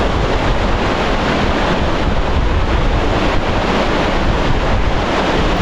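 Dense, steady rush of water spray right beside a mountain waterfall in Sweden, a loud unbroken roar with wind buffeting the microphone throughout.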